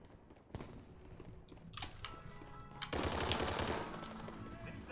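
Rapid automatic gunfire from a video game, a burst of loud repeated shots building and then sustained, with sharp impacts and metallic clatter close up.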